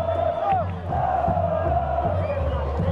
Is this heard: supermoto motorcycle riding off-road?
no